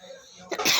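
A short, sharp cough from a hoarse voice bursts out near the end after a quiet moment, close and fairly loud.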